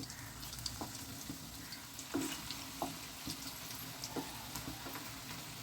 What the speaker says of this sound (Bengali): পরের পিঠটাও লাল করে ভাজতে হবে